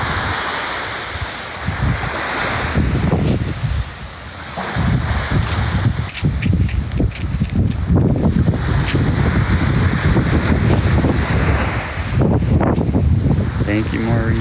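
Ocean surf at a beach during a live outdoor performance, steady washing and crashing waves with wind buffeting the microphone, loud and continuous under occasional speech.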